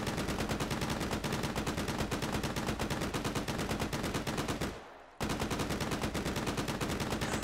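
Rapid automatic gunfire from the VR game Hot Dogs, Horseshoes & Hand Grenades, loud and close, with evenly spaced shots in a long continuous burst, then a brief pause and another sustained burst.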